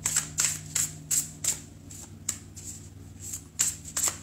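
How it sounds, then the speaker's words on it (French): Tarot cards are shuffled by hand in a series of crisp riffling bursts, about a dozen quick flutters in an irregular rhythm, close and clear over a low steady hum, with no talking. "j'arrête de battre les cartes"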